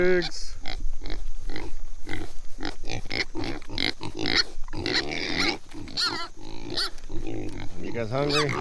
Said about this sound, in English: Good morning, pigs.